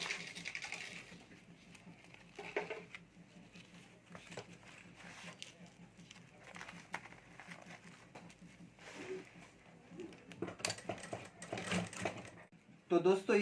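Short bursts of a sewing machine stitching a potli party bag at home, rapid rhythmic needle chatter starting and stopping several times, quiet and close, with pauses and handling noise between runs.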